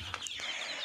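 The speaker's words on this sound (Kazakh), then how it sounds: "Ол бізде күрік тауық." A brooding hen clucking close by, a couple of short raspy clucks in under a second.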